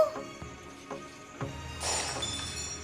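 A clay pot cracks in an animated fairy-tale cartoon, heard as a few light knocks followed by a sharp, brittle shattering crack that rings out near the end.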